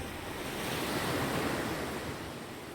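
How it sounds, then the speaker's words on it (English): Ocean waves break and wash steadily on a beach, a continuous broad roar mixed with wind against the microphone. No voices are heard. "So the beach is right behind me."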